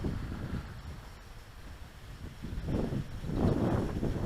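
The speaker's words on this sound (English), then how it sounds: "Boy, that wind is something else." Strong gusting wind buffets a small MJX X600 drone outdoors, a loud rumbling roar against the microphone that eases briefly and then surges again in heavier gusts.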